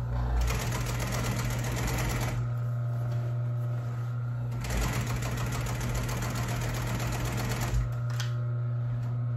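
Commercial sewing machine stitching a top seam on an upholstery cover, running loud and close in two long bursts with a pause between, a steady motor hum beneath the rapid needle chatter.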